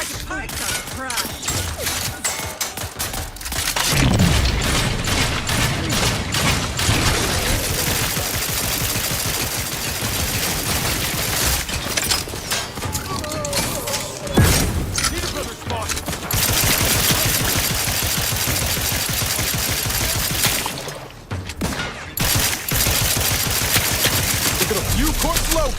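Sustained gunfire in The Outer Worlds 2 video game, dense rapid bursts of shots running almost without pause, with brief lulls and voices mixed into the battle.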